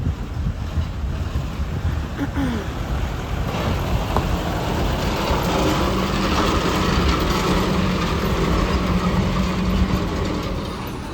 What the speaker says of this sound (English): Oh, truck's about to come run me over.